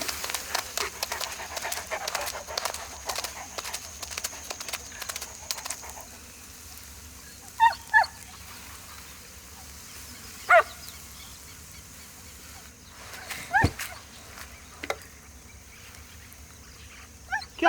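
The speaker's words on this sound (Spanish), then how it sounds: "¿Qué onda el perro este?" A dog pants steadily in quick rhythmic breaths close by, with a few sharp isolated sounds and faint bird calls in the background; no clear barking stands out.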